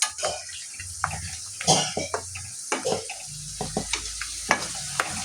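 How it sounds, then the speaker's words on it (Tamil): Herbs sautéing in oil for a homemade herbal hair oil, stirred in the pan, give a steady soft sizzle broken by repeated scraping clinks and knocks of the spoon, close and moderately loud, with no talk. "இது நல்லா கருகிற வரைக்கும் நல்லா வதக்கிட்டு ஸ்டோர் பண்ணிக்கலாம்"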